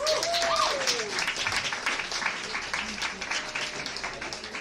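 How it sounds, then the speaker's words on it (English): Sustained applause from a poetry slam audience fills the scene, dense clapping throughout with a brief whistle near the start and crowd noise beneath. "Applaud the poet, not the points."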